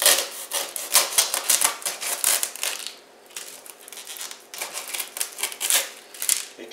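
A knife cuts the tip end off a tough okra pod during seed harvesting, a close run of dense crisp snapping and crunching bursts that pause briefly midway and then resume.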